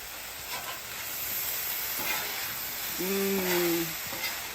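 Holiday vegetables sizzle on a Blackstone griddle with a continuous hiss and occasional scraping as they are mixed, and a short tonal whine rises briefly partway through. No one speaks.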